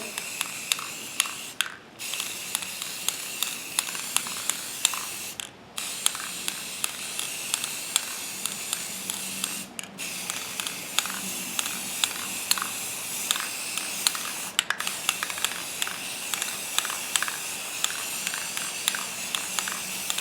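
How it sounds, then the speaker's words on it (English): Steady hissing black spray paint bursts from an aerosol can onto a vase, repeated in short pulses with brief pauses between them, close up and fairly loud. "I'm going to go ahead and spray these black in here."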